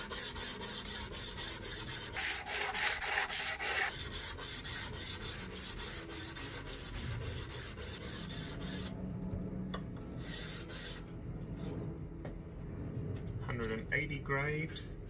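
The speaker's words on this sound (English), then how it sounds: "Okay, 120 grade sandpaper." Strokes of 120 grit sandpaper rasp along a violin fingerboard during restoration of a W.E. Hill & Sons violin, a quiet rhythmic rubbing with a brief louder burst early on and soft talk mixed in.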